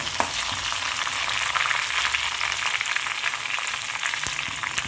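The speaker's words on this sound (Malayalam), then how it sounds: "ഈ സമയത്ത് നമ്മൾ ഇതിലേക്ക് 2 തണ്ട് കറിവേപ്പിലയും കൂടെ ചേർത്ത് കൊടുക്കുകയാണ്" Sliced onions and curry leaves fry in hot oil in a pan, giving a steady, bright sizzle with crackling spits and occasional stirring, close and continuous.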